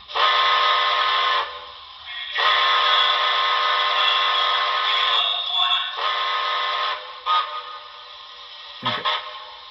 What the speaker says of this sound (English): F-22 is a whistle toggle.